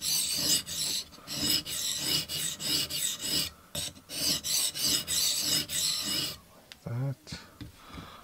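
A TRC XS Splinter fixed-blade knife is sharpened on a stone of the TSPROF Blitz Pro sharpening system, making repeated close, rasping strokes in a steady back-and-forth rhythm, followed by a few quieter scrapes.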